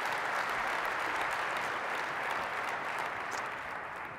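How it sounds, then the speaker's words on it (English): A large keynote audience at the Knowledge18 conference applauds, with thick, continuous clapping sustained evenly from start to finish at a moderate distance. "Give it a big round of applause."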